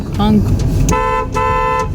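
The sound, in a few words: car horn honking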